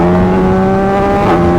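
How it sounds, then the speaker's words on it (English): The 890cc CP3 three-cylinder engine of a Gen 4 Yamaha MT-09 revs loud and close, a steady, dense drone with a slight rise near the end. "Now this is the CP3 engine"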